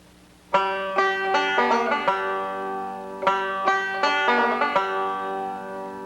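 A bluegrass banjo plays a Scruggs-style tag lick alone: bright, closely miked plucked notes in quick rolling bursts, with a short pause in the middle before the pattern resumes.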